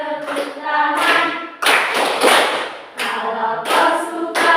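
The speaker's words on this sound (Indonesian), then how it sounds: "Kalau kau suka hati tepuk tangan." Classroom of children clapping along to an action song, several bursts of quick group claps falling in rhythm with the singing, close and fairly loud, with sung voices between and under them.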